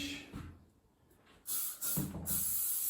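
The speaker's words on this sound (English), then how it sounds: "we are going to run a little bit of spray through just to finish." Hairspray is misted through a finished asymmetric graduated haircut, heard as steady aerosol hissing in two close bursts after a quiet pause, with soft handling noises before.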